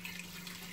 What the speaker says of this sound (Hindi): पानी शामिल कर लीजिए